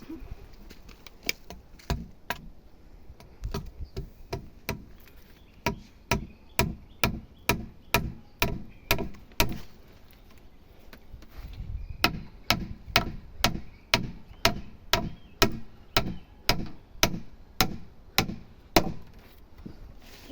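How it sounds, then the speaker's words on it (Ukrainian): Nails being hammered into a wooden wall of a small house under construction, a steady run of sharp, close strikes at an even pace, briefly pausing near the middle before the rhythmic blows resume. "Беремо цвях і починаємо прибивати."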